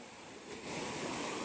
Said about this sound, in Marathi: या छान मस्त पैकी समुद्राच्या लाटा इथे सेंटरला